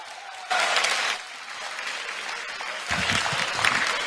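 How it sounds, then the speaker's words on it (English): A crowd of class of 2024 high school seniors claps at a school assembly, a loud burst that eases to steady applause and then swells again near the end. "Give yourself a round of applause"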